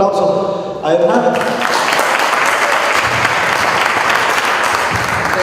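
An audience at a training conference breaks into loud, sustained applause, clapping densely and evenly, with a voice heard just before the clapping swells.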